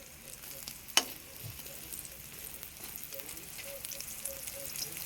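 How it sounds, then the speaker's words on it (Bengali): Pieces of pointed gourd (potol) fry in a pan with a steady, moderate sizzle and a single sharp click early on. "কত সুন্দর আমার পটল ভাজাটা হয়েছে"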